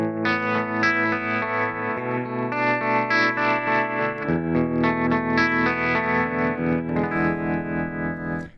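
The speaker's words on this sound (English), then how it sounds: "I usually have to leave it on the tremolo setting, which is preset 1 for me." Electric guitar played through a pedalboard's tremolo preset, with a sustained, distorted and chorused tone pulsing in steady rhythm, loud and close for the whole stretch with no talking.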